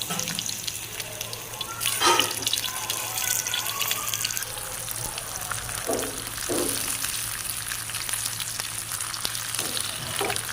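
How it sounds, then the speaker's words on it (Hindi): Eggplant slices frying in oil in a frying pan give a steady, moderate sizzle with no talk, broken by a few brief louder bursts and clinks. "इधर हम इसी तरह सारे बैंगन को फ्राई करेंगे"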